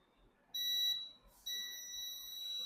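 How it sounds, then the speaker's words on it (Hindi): Multimeter continuity tester beeping while probing a capacitor: two steady, high electronic tones, one short and one longer after a brief gap, fairly faint and clear. "इसने वन साइड बीप दिया और वन साइड नहीं दिया"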